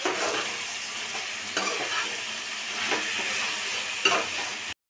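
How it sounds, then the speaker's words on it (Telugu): Mint chutney mixture with coriander leaves being stirred in a frying pan, giving a steady soft sizzle with scraping strokes of the spoon, close and continuous until a sudden stop at the end. "ఒకసారి కలుపుకుందాం"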